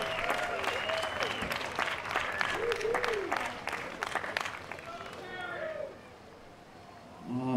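Applause from an outdoor concert crowd on a town green for a disco revue band, a broad steady wash of clapping with cheering mixed in that fades out partway through.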